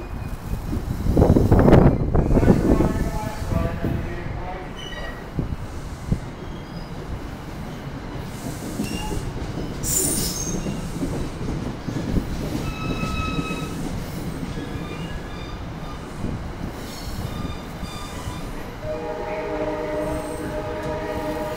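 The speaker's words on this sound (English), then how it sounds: "Train 3720 departing from New York." New Jersey Transit train 3720 departs Metropark station on the Northeast Corridor, rumbling steadily, with a brief loud horn early on, squealing wheels and clanking as it rolls along.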